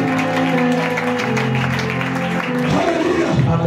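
A church congregation claps steadily and loudly in praise, with voices and a sustained musical tone running beneath the applause.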